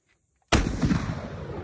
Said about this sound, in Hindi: धमाके से ज्यादा आवाज है उजैर भाई